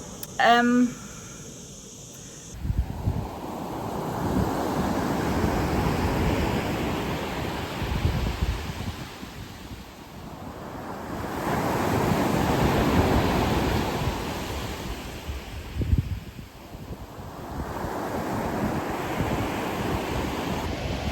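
Ocean surf on a beach at sunrise rolls in broad, swelling washes that rise and fade in slow cycles, with wind buffeting the microphone and a brief tonal sound at the very start.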